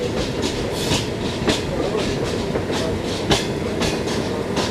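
The 11UP Hazara Express, running from Rawalpindi, rolls into Baldher station, a steady loud rumble with rhythmic clickety-clack of wheels over rail joints close by.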